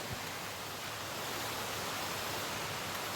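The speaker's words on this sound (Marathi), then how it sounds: "या डोंगराच्या वरून पाणी जे वाहतं" A high waterfall on a Sahyadri mountainside at the source of the Shivganga river pours in a steady, even rush of white water, continuous and unbroken with no voices.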